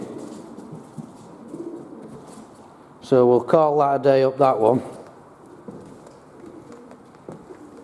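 Pigeons coo inside the old Armley mill, a burst of several rounded, pulsing calls close by lasting about two seconds, with quieter ambient room noise and brief talk around it.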